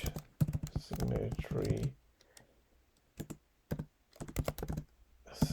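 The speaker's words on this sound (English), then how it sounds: "So I'm just gonna type here" Computer keyboard typing in quick bursts of clattering keystrokes, alternating with someone talking between and over the taps.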